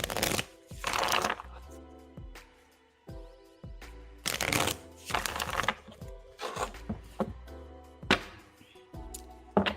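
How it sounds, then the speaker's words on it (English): Tarot cards are shuffled by hand again and again in a quiet indoor setting. Crisp riffling bursts come in an uneven rhythm with brief pauses, close and clear, with no voice over them. "All right, shuffling for Beautiful Love."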